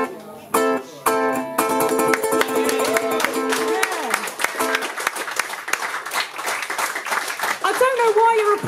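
Dense audience clapping at an open mic fills the space, mixed with musical tones and cheering voices, loud and sustained throughout.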